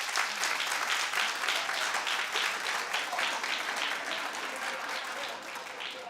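A studio audience at a daytime talk show breaks into loud, sustained applause, many hands clapping together at close range, holding steady before easing slightly toward the end.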